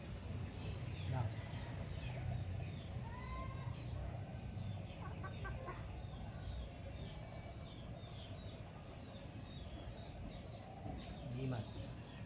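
A chicken clucks in short bursts outdoors, close by, amid voices talking and low ambient noise.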